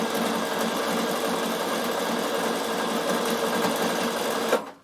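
A Bernina overlocker sews an overlocked finish on fabric, a fast, steady mechanical whir that runs evenly for several seconds close up and then stops abruptly.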